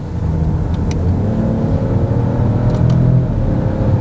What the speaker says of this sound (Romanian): motorul împinge bine, spuneam, și asta se simte inclusiv în accelerații mai intense